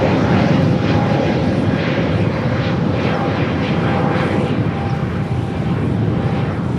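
An Airbus A330 airliner approaches to land at LAX, and a loud, steady engine roar with broadband rushing noise fills the whole clip. It stays fairly constant and close throughout, with no talking.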